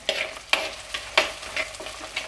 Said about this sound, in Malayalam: ഇനി ഇതിലേക്ക് നമുക്ക് ഉള്ളി ആഡ് ചെയ്ത് കൊടുക്കാം കേട്ടോ